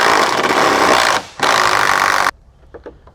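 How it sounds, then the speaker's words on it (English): An impact wrench hammers at the rear bolt of a roof rack on a Can-Am Defender in two loud, sustained rattling bursts separated by a brief pause, then falls to quiet clicks and light handling noises. "You're gonna have a impact up top and a wrench on the bottom."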